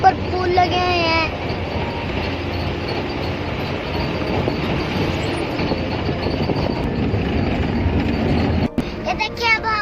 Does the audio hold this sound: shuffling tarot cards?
no